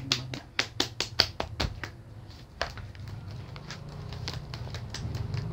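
A person slaps and pats their own body with their hands, a quick series of sharp, close slaps that tails off into scattered taps over a low background hum.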